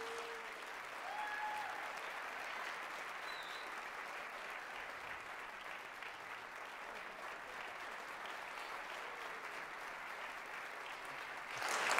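A jazz orchestra concert audience claps steadily for a guest artist in sustained applause, a dense even patter heard from a distance, swelling slightly at the end.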